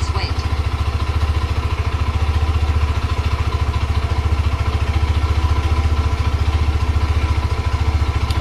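Yamaha Mxi 125 motorcycle engine idling after starting on a tested battery, a steady, loud, close rhythmic low chugging with faint clatter throughout.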